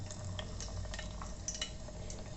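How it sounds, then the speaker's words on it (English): Okra (lady's fingers) deep frying in hot oil inside an electric kettle for Andhra-style bhindi fry, a steady close crackling sizzle with faint scraping and stirring clinks throughout. "And once the oil is hot, then add the lady's fingers."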